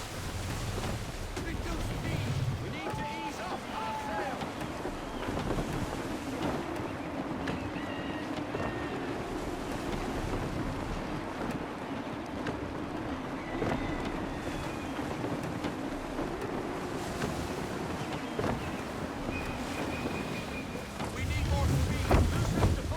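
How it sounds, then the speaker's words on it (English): Steady wind rushes over a sailing ship at sea in Assassin's Creed III, a constant breathy roar with water wash beneath, swelling into stronger gusts near the end; no one speaks. "Gusty winds can be difficult to manage."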